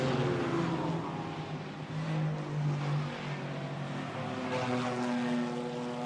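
A BMW GT4 race car on a qualifying lap at Zandvoort, its engine note rising and falling through gear changes in a continuous loud drone with shifting pitch, no voices heard.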